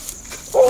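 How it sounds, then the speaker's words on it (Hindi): At night, a dog gives one short, sharp bark or yelp near the end of a quiet stretch. It stands out clearly against faint background noise. "दोस्तों कुत्तों की भौंकने की आवाज"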